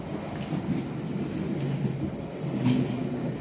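A London Underground Piccadilly line carriage runs overground in North London, a steady rumbling ride from inside the car with rhythmic clatter and faint brief squeals, no voices over it.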